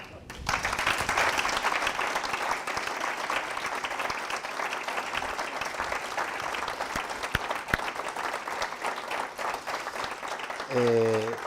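Sustained applause from an audience, a dense wash of clapping that holds steady for several seconds before fading out, with a voice briefly at the end.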